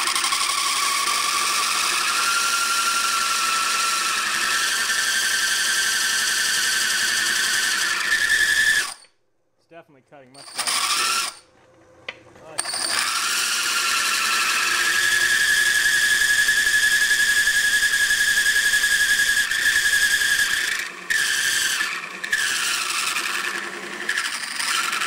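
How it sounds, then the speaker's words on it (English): A small 1/3 horsepower drill press runs with its belt slipping, giving a steady whine and squeal. It cuts out briefly about a third of the way through, then starts up again and keeps running loud and close. "drill press that's more substantial than this, this one, the belt slips and all that, it's only 1/3 horsepower"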